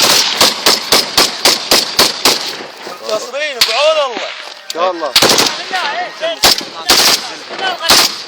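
Loud, close automatic gunfire rattles in rapid bursts during a frontline shooting with Popular Mobilization fighters, broken by shouted talk between volleys.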